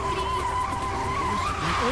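A car driven fast in a film scene, tires squealing and skidding with a rising whine under a brief moment of dramatic sound, loud and close.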